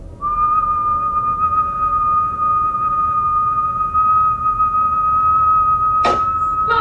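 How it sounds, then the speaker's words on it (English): A person whistles one long, steady, loud note that holds for several seconds, then a brief sharp noise cuts in near the end. "When I do the whistling, how does that feel to you?"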